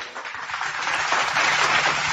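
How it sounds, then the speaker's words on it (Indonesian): Crowd applause at a Christian-Muslim debate gathering in Indonesia, a steady, dense wash of clapping throughout, fairly loud and without talk. "Tepuk tangan dulu teman-teman"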